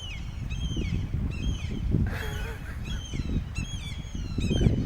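Loud gulls calling on a windy beach, repeated harsh squawks in bursts over a low rumble of wind and surf, close and prominent.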